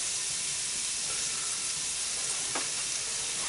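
Onions frying and sizzling in a pan for Jägerschnitzel, a steady close hiss with a faint scrape as they are turned.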